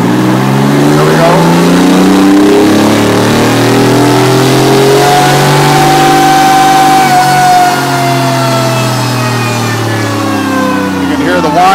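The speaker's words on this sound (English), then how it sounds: "You can hear the whine of the Whipple supercharger under there." The supercharged Detroit 6V53 diesel of a 1986 Chevy 1-ton 4x4 revs loudly under heavy load on a dyno, the Whipple supercharger's rising and falling whine layered over the deep roar, steady and close throughout.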